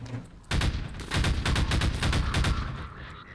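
Rapid bursts of gunfire in the video game Half-Life 2: Lost Coast, loud and dense, with a short pause before sustained automatic shooting resumes.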